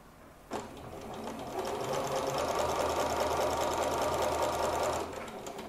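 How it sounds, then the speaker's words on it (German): A domestic sewing machine stitches a straight seam through fabric, a close, steady rapid whirring that starts abruptly and runs continuously for several seconds before stopping. "Und jetzt nähe ich mit einem Zentimeter Nahtzugabe einfach eine Gerade."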